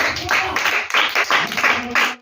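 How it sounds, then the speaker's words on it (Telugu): Children at a Sunday school clap loudly in quick, rhythmic bursts for about two seconds, mixed with voices. "గట్టిగా క్లాప్స్ కొట్టండి."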